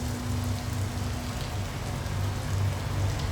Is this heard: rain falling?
yes